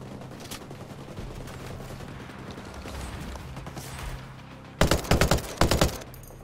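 Gunfire in the tactical shooter Ghost Recon Breakpoint: faint distant shots and game ambience for several seconds, then two loud close bursts of rapid automatic fire near the end.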